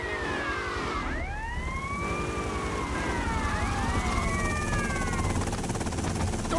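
A police car siren in the game GTA: Made in USSR wails in long rising and falling sweeps, several overlapping tones, loud and steady over a dense background of traffic and engine noise.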